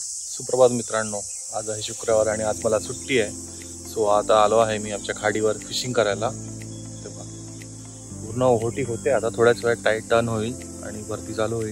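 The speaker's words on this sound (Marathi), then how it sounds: "रातकिड्यांचा तरी आवाज येतोय" Crickets chirp in a constant high, shrill drone beside a tidal creek during a fishing outing, steady and prominent beneath someone talking for most of the time.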